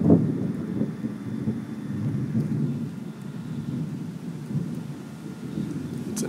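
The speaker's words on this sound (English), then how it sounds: "bit of a storm rolling in." Deep, rolling thunder from an approaching storm rumbles steadily throughout, loud and continuous, with a faint hiss of wind but no voices.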